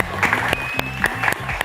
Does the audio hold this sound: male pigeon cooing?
no